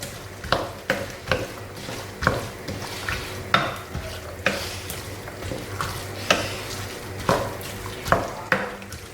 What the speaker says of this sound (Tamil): என்ன இதில் கொண்டக்கடலை சேர்க்குறேன். இது நல்லா வதக்கி விட்டுட்டு